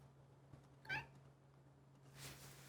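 A pet cat named Misha gives one short, faint meow, followed by a soft rustle, set against a quiet room hum.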